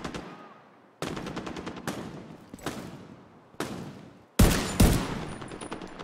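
Gunfire in Tom Clancy's The Division 2: about six loud, sharp bursts land roughly a second apart, each ringing into a decaying tail, the last two heavier and denser.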